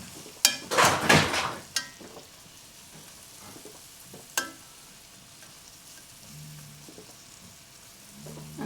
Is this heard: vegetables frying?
yes